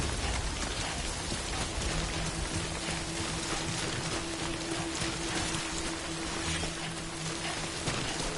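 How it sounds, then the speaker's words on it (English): Steady heavy rain, called timefall, pours down in the video game Death Stranding, a dense even patter on surfaces that fills the whole stretch without pause. "Don't stay out in the rain any longer than you have to."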